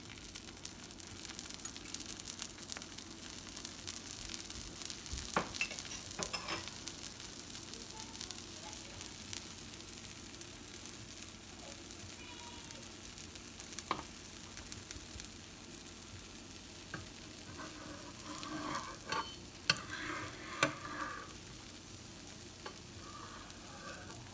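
Dosa sizzles on a hot pan with sesame oil drizzled over it, a soft, steady crackle and hiss lasting a long stretch, broken by a few faint clicks and scrapes.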